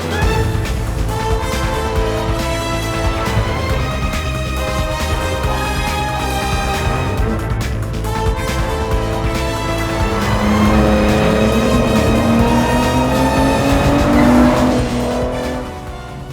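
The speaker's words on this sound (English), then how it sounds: "I'm going to take it for a razz" A facelifted 2005 BMW E46 330Ci being driven hard, its engine note loud and continuous with harmonic drone, rising pitch under acceleration toward the end, and some tire noise, with no talk over it.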